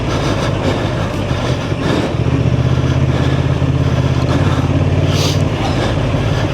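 A 2024 Honda Transalp 750 ridden off road at an OHV park gives a loud, close, steady engine drone with a rough low rumble that thickens as the throttle opens partway through, amid wind noise.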